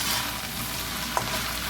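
Shrimp, mixed vegetables and onions fry in a pan with a thick, even sizzle and one brief clink partway through, close and steady, with no voices.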